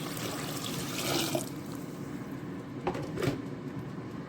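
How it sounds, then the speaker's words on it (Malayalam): Water is poured into a pot of green gram curry with a brief splashing pour and a second short pour later, over a continuous kitchen hiss with a couple of light clunks. "ഇതിലേക്ക് വെള്ളം ഒഴിച്ച് കൊടുക്കും"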